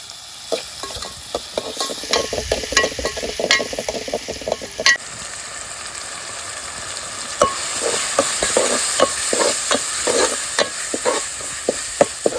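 Tomatoes salted in a hot pan sizzle steadily while a spoon scrapes and stirs in a regular rhythm of sharp clicks, close up with no talking.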